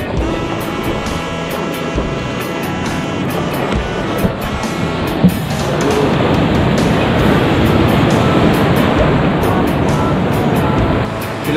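Sea surf at the shore, a steady broad wash of waves that thickens and grows louder about halfway through, with faint clicks over it and no talk.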